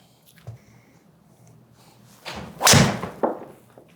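A golf driver swings and strikes a ball on a practice range, giving a single sharp whooshing crack that rises out of quiet background, followed by a smaller knock.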